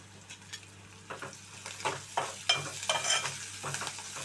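Curry leaves frying in hot oil in a pan over a low flame, with soft crackling sizzle and stirring scrapes growing gradually louder and busier, close and without talk.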